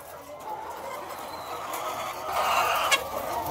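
Chickens in a poultry house in Valaga, Mabini, Bohol, a flock clucking steadily and fairly close, with overlapping calls and rustling throughout.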